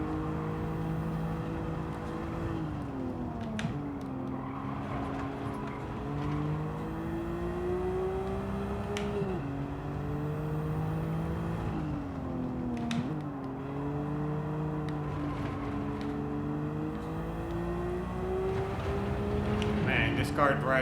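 A car engine in the Gran Turismo 7 racing game drones steadily, its pitch climbing and dropping repeatedly through gear changes, braking and acceleration around a circuit, with no voices heard.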